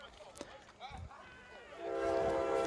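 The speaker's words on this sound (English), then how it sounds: "you hear that we are next to a train station, so I do apologize in advance for the trains we're going to hear tonight on the broadcast" Train horn and rumble of trains passing beside a station near a semi-pro football field, a sustained harmonic horn tone swelling loud in the second half after brief scattered noises.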